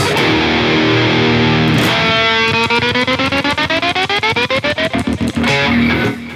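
Heavily distorted tones from an 8-string Jackson fretless electric guitar: a sustained chord, then a rapid run of picked notes whose pitch glides upward, loud and close with no talking.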